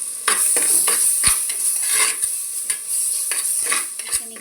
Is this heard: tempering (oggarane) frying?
yes